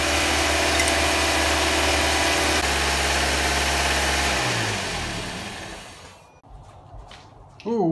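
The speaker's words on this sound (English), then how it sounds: "I'm gonna shut down the engine and let it sit for 10 minutes." Toyota Corolla engine idling steadily with a low, even hum and faint vibration for most of the clip, then winding down and falling quiet as it is shut off, after which brief faint noises follow.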